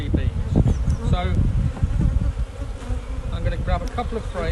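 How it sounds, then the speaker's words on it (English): Young nurse honey bees swarm around an open hive during a spring colony inspection, a dense, close, continuous buzzing with individual bees darting past the microphone. "These are all going to be young bees, nursery bees."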